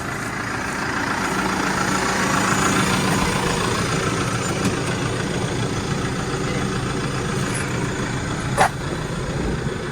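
New Holland T5 tractor engine idling on a farm, a steady close diesel rumble holding an even pitch throughout, with a brief faint click near the end and no talking.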